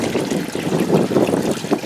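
Water trickles steadily out of an aquaponics system, a close, continuous splashing dribble with no voices.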